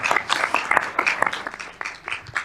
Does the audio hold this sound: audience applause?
yes